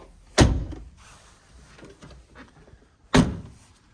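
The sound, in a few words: car door being closed, Mini Cooper Clubman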